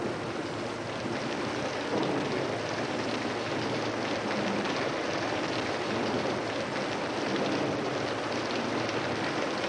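Rain falls in a TV police drama scene, a dense, steady hiss that stays even and loud throughout with no voices.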